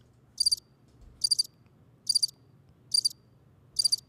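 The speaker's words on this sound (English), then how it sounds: "That was crickets." Cricket chirping sound effect: five crisp, evenly spaced bursts of rapid high trills over a low, quiet background hum.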